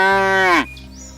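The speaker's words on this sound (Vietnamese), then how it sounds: "Con bò." A cow moos once, a loud, drawn-out bellow with a rich harmonic tone that falls in pitch at the end, then cuts off into quiet background.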